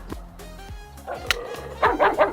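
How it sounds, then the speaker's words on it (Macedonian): A dog barks a few times, faint at first, then in a short cluster of louder yips and barks near the end. "абе кучево лае цело време"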